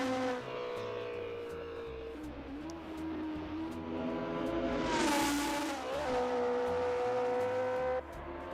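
Engine of a Tipo 33 sports car in Assetto Corsa racing on the Nordschleife, a steady tonal drone that rises and falls with gear changes, peaking in a louder rev midway before settling again.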